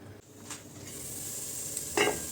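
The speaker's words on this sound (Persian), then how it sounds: "یک پیاز متوسط رو نگینی ریز خرد میکنیم و با کمی روغن تفت میدیم" Finely diced onion fries in a little oil in a pot, giving a soft, low sizzle with a couple of brief stirring scrapes; no voices.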